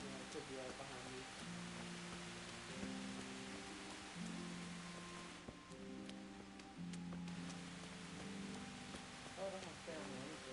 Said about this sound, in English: The rain is fine.